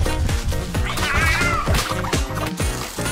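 A cat's meowing, including one drawn-out wavering call near the middle, rises above steady rhythmic background music throughout.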